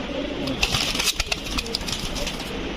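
Rampuri pigeons coo and flutter at a busy pigeon market, a steady close chorus of soft coos with sharp wingbeat bursts and crowd noise around them.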